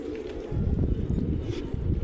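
A Patiala pigeon cooing at close range, soft low throaty coos in a short run, with a faint airy background and no talk.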